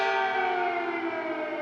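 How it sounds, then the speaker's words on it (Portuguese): Air raid sirens wailing over Kyiv, a loud, sustained civil-defence tone holding steady throughout with no voices. "Neste domingo, em Kiev, os sinos dessa igreja se misturaram às sirenes."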